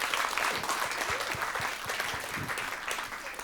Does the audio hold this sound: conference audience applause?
yes